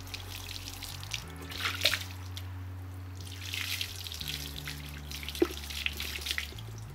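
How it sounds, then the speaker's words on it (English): A cup of water is poured over a stuck trailer hitch to rinse off vinegar. Splashing and trickling run close by for several seconds over a low mechanical hum. "I'm going to take a big cup of water and just rinse all the vinegar off of this thing"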